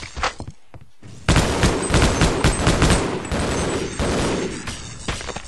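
Gunfire rings out in Half-Life: Opposing Force. A few brief sounds come first, then a loud, sustained burst of rapid automatic fire with heavy thuds runs on for several seconds and slowly eases off.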